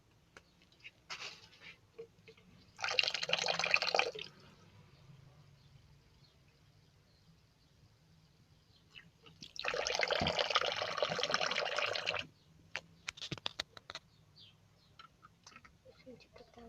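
Water runs from a tap into a container outdoors at a house in two separate bursts of rushing, splashing flow, with quiet gaps and small clicks between them.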